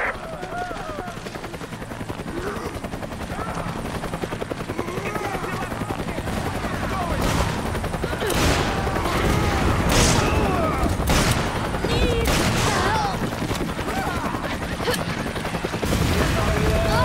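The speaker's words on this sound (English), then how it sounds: "Gunfire!" Bursts of video game gunfire crackle over a steady helicopter rotor drone, with voices talking now and then.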